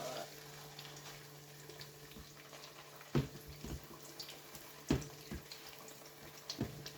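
Shinwari-style Peshawari kebabs fry in a pan, giving a faint, steady sizzle with a few sharp knocks and scrapes of a utensil against the pan.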